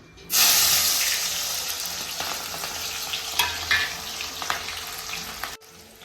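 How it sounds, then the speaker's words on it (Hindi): Chopped onions dropped into smoking-hot oil in a home kitchen pan burst into a loud, steady sizzle with crackling spatter and occasional stirring scrapes, holding strong before cutting off abruptly near the end. "तेल भी गर्म हो चुका है, अब डालते हैं प्याज।"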